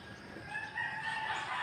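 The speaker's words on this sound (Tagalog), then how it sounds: "daghang kay manok nagtuktugaok" Roosters crowing along a hillside hiking trail, several drawn-out cock-a-doodle-doo calls overlapping at moderate distance against faint outdoor background, no talking.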